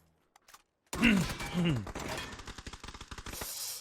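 Gunfire in the battle royale game PUBG: a loud opening blast with a vocal groan, then a rapid rattling burst of automatic shots in quick, even succession, close and punchy.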